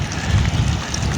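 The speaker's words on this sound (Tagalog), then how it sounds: "ayun yung ulan, napakalakas na ito" Heavy rain pours down outdoors during a fishing trip, a dense, steady hiss with a low rumble that stays loud and unbroken throughout.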